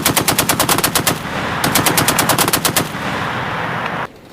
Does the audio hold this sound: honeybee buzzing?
no